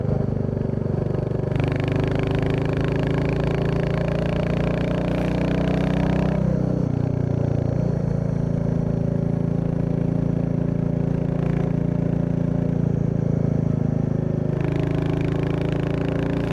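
A 2024 Royal Enfield Bullet 350 single-cylinder engine pulls uphill in third gear, a steady loud chugging drone with shifting throttle tones throughout, close and alone without talk.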